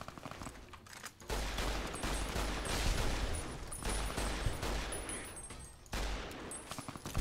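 Loud gunfire from a weapon in Fallout New Vegas during a Vault 22 expedition: heavy, repeated bursts come in long volleys, with brief lulls between them.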